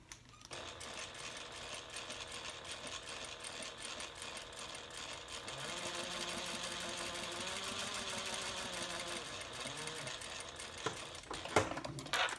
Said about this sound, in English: let's give it a good, just a quick little baste.